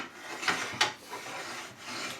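Solid 40 mm steel tool arms sliding in and out of welded holders on a belt grinder build, a close metallic scraping rub with two sharper strokes, then a quieter steady slide.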